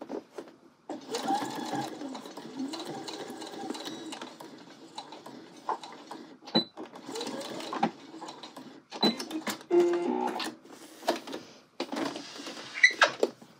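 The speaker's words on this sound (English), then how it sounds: "I'm sewing through the welt, the main part of the jacket, and then the seam allowances" A sewing machine stitches through a zippered welt pocket on a jacket, sewing through the welt, the jacket body and the pocket-bag seam allowances, in close, repeated bursts of mechanical whirring broken by short pauses.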